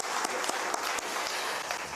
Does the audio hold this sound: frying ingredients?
no